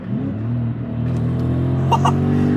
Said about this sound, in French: il rétrograde